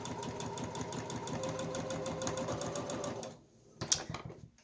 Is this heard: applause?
no